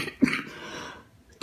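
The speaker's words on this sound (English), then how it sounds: "I really apologize for this hacking cough that I have." A hacking cough from a person with a cold during cooking, heard as a sharp burst followed by a rough, breathy spell of about a second, then another abrupt cough at the end; close and fairly loud.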